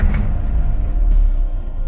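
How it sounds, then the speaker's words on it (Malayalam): A Hindustan Ambassador car engine idles with a steady, loud, low rumble that stays even and continuous through the short stretch, with no speech. "വണ്ടിയുടെ ഐഡ്ലിംഗിന്റെ സൗണ്ട് ഇതാണ്"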